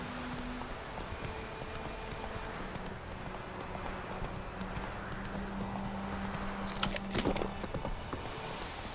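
Horse hooves clip-clopping in The Witcher 3: Wild Hunt on Nintendo Switch, a steady galloping rhythm of hoofbeats with a brief clatter near the end, fairly quiet and alone.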